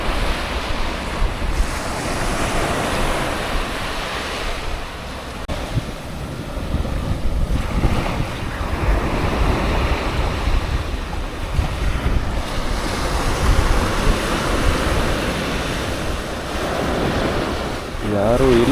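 Ocean waves rolling onto an empty beach, a continuous loud wash of surf with heavy wind buffeting the action-camera microphone.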